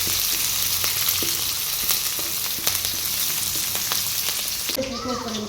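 Cumin, mustard seeds, onion, green chili and curry leaves sputter and sizzle loudly in hot oil in a pan, a dense continuous crackle with occasional popping seeds and stirring clicks, then a brief quieter change near the end.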